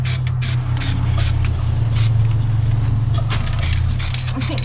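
High build primer sprayed under the bonnet of an Austin Allegro: close, loud hissing spray bursts in quick succession over a steady low compressor drone.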